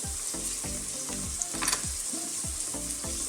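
Garlic fries in a pan for mushroom Manchurian, a steady close crackling sizzle broken by repeated rhythmic scrapes of a spatula stirring, with no voices.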